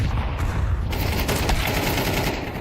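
A grenade blows open a smoke cloud in a video game, heard as a dense burst of sharp gunfire-like cracks and a blast over a continuous noisy roar, fairly loud and busy throughout.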